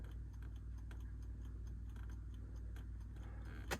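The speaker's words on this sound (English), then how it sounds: "By having an electric fuel pump, as soon as you turn the ignition on," The electric fuel pump in a 1974 Jensen Interceptor Mk 3 ticks quietly and steadily after the ignition is switched on, a fast even clicking over a low hum, with a brief louder knock at the end.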